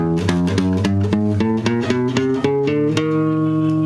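Guitar notes plucked one after another in a steady chromatic run rising from E through all twelve semitones, each note ringing clearly into the next.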